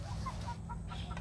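Chickens clucking on a farm while meat is being cooked outdoors, several short scattered clucks at moderate distance over a steady low rumble of background noise.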